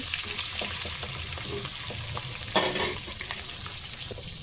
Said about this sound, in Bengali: এই যে এখানে আমি ডিমগুলো ভেজে নিচ্ছি